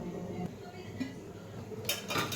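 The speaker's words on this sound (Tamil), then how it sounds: "பாத்திரம் கழுவிட்டு உங்களுக்கு காமிக்கிறேன் பாருங்கள்" Pots and dishes clink and clatter close by as they are washed, with a louder burst of scraping and splashing near the end.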